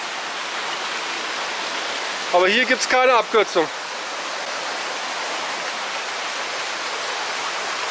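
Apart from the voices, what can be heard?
water flowing from a spring in a cave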